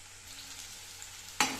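Chopped onion frying in hot oil for a green peas stir-fry, a steady soft sizzle that jumps to a louder crackle near the end, with no talking.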